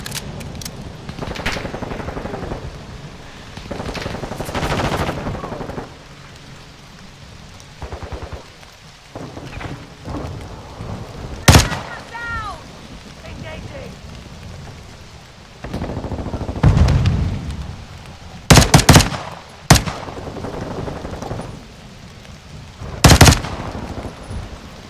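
Video game gunfire in a firefight, with scattered bursts and single sharp shots at irregular intervals, the loudest cracks clustered near the end over a steady background rumble.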